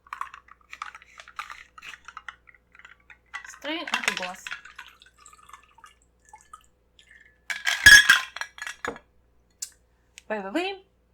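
A White Lady cocktail is strained into a glass: soft trickles and light clinks of metal and glass, with a couple of brighter clattering bursts, quiet and close with pauses between.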